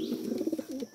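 A large male Lahori pigeon cooing close by, a short run of soft throaty pulsing coos within about a second, with no talking.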